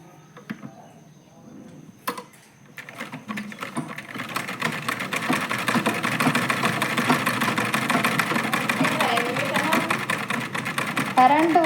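Foot-pedalled sewing machine with no motor stitching a blouse, a rapid steady mechanical whirring and clatter that builds after a few quiet knocks and a voice at the start, then runs loud and continuous.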